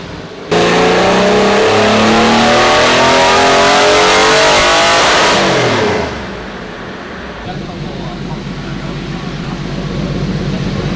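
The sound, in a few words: Porsche 964 engine revving during a dyno run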